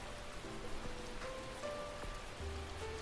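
Rain pouring and intensifying in the visual novel The Fruit of Grisaia, a dense steady hiss of drops on surfaces with soft music tones lingering underneath.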